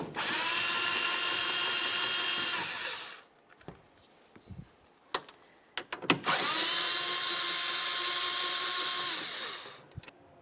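Power tool spinning off the two tail light mounting nuts on a 2007-2012 Nissan Sentra, two loud sustained whirring bursts of about three seconds each, separated by quiet clicks and handling noises.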